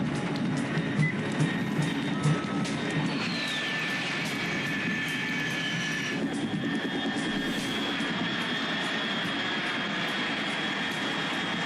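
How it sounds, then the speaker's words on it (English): An aircraft engine in the Metal Gear Solid 3 video game, a steady loud drone with high whining tones, one of them sweeping downward, holding throughout with no talk. "Control, unidentified aircraft detected."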